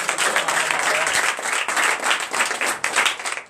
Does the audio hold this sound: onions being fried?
no